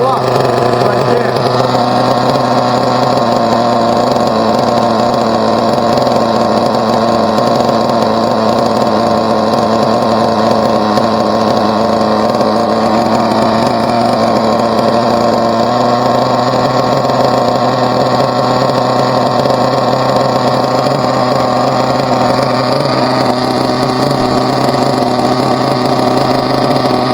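A Team Associated RB nitro RC engine running during break-in, a loud, continuous high-pitched buzzing drone that holds steady throughout with slight shifts in pitch.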